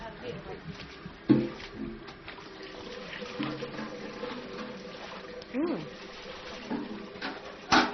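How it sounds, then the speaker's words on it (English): Water runs from a tap while being drawn, a faint splashing trickle with a few sharper clinks, heard under nearby conversation. "你要打水是不是？"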